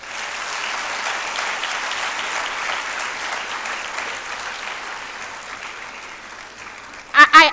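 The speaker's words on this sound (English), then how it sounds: "can we clap for this man?" An audience at a university International Women's Day event applauds a vice chancellor with a sustained, even wash of clapping that slowly fades, then a few loud, close claps burst out at the very end.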